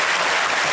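Studio audience applause at a German comedy talk show, a dense, loud wash of many hands clapping throughout a short burst, with no voices on top.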